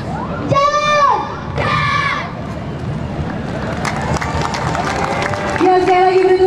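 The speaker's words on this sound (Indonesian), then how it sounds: "saya lagi beri tepuk tangan yang meriah untuk peserta lomba" A lively crowd of schoolchildren at a school competition shouts and cheers, with high excited voices, some clapping and loud bursts of calls over a constant noisy din.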